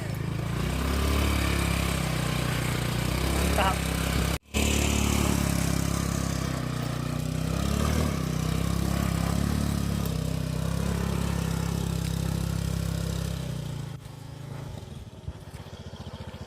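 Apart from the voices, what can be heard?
automatic scooter engine riding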